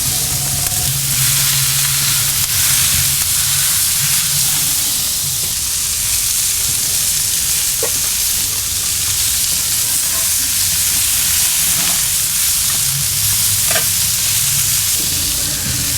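Fajita vegetables sizzle loudly and continuously on a Kamado Joe grill as they are stirred and turned, a dense, steady frying hiss with occasional faint scraping.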